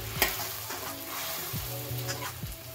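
Masala fries in oil over already-sputtered mustard seeds and cumin for Khandeshi kadhi, a steady close sizzle broken by a few scraping stirs of a spoon against the pan.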